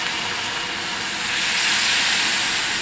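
Orange juice poured into a pan of hot melted butter for flambéed bananas, giving a loud, steady hiss and sizzle that swells slightly and carries on throughout without talk.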